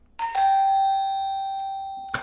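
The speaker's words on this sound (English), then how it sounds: "so you can hear this bell sound" A bell sound effect triggered from a Stream Deck during a live stream rings out as a clear, sustained chime that slowly fades, followed by a short knock-like sound at the end.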